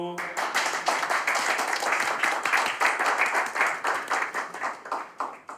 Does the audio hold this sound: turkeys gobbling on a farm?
no